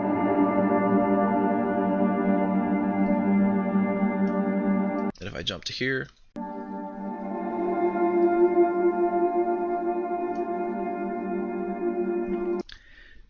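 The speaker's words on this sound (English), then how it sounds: "make it into an ambient drone" A dense, sustained ambient drone of layered tones made with Paulstretch in Audacity hums steadily, briefly interrupted midway by a short spoken phrase and a glitchy jump.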